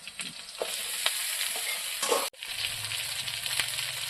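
Taro pieces dropped into hot oil with chopped onion, green chili and five-spice give a loud bright sizzle with stirring scrapes, a brief break, then steady frying continuing alone without talk.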